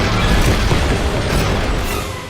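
A gun turret blows apart after a torpedo hit, a loud, dense rumbling blast that fills the whole short stretch and tails off slightly at the end, with no voices over it.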